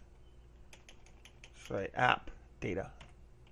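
Keys on a computer keyboard clatter in soft, scattered clicks, quiet and close, while someone speaks briefly in the middle.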